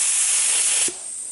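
A paint spray gun test-sprays primer, a loud close steady hiss that cuts off sharply after about a second, leaving a faint residual air hiss.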